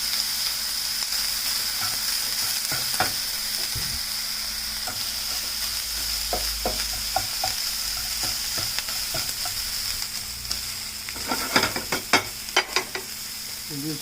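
A Japanese souffle omelette frying in a pan on the stove gives a continuous even sizzle and hiss, with scattered clicks and clattering utensil knocks growing busier toward the end.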